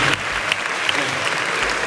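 An audience at a Christ College talk by Praveen Chirayath bursts into loud, sustained clapping, a dense close crowd of hands filling the whole moment.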